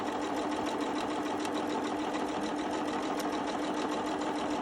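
A sewing machine runs a straight stitch over a wide strip of lace with a steady, fast, continuous mechanical whir. It is close and unbroken from start to finish, with no talking.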